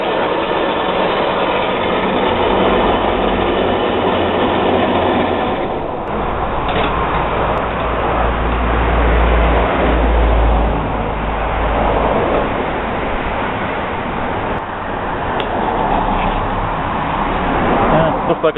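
Craftsman riding mower engine idling in neutral, not in gear, a steady close rumbling drone that holds for the whole stretch with a slight swell partway through, under occasional speech.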